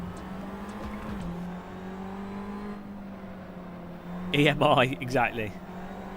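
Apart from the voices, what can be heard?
race cars driving in video game Assetto Corsa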